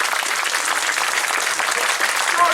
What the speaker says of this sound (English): can we take a second pause to give Rich a massive round of applause?